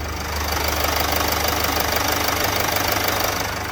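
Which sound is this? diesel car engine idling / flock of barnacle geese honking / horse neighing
diesel car engine idling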